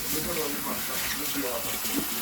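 Rice is washed in water for Jamaican stew peas with rice, making a continuous splashing, sloshing wash of running water that stays steady and close throughout.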